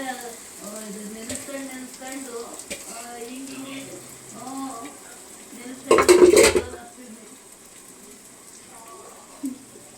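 Cooked rice is tipped into a pot on a low stove flame and stirred with a metal ladle, giving clattering scrapes and knocks, a loud rushing pour midway, and a final clink, while someone talks over it.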